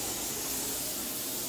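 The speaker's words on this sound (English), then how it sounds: "Steady steam." Steady, continuous hiss of steam venting from a pressure canner while meatballs are being canned, loud and unbroken from start to end.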